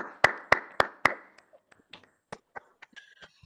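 Four sharp, close hand claps come at an even pace, followed by a few faint scattered taps and small noises in an otherwise quiet room.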